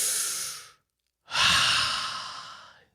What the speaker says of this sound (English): Let's all take a deep breath and exhale.